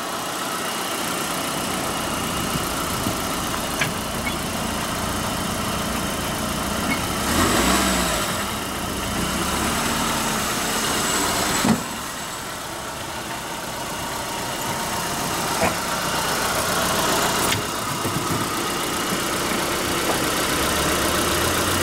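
A 1994 Plymouth Colt car engine idling up close at a fairly high idle, a steady mid-pitched hum with light vibration and a few brief revs or knocks rising over the drone.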